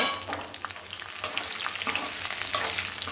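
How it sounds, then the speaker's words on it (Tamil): Asafoetida and dried red chillies fry in oil over a low flame for tamarind rice, giving a steady close crackling sizzle with sharp pops and faint stirring scrapes throughout. "இதுலேயே இந்த மிளகாவத்தலையும் சேர்த்துக்கலாம் கொஞ்சம் அடுப்பை சின்னதாக வச்சுட்டு பொன்னிறமாக வறுத்துக்கலாம்"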